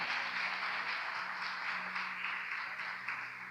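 A church congregation claps together in sustained, steady applause that holds at an even level throughout, heard from a moderate distance.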